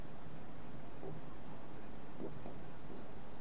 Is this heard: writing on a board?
yes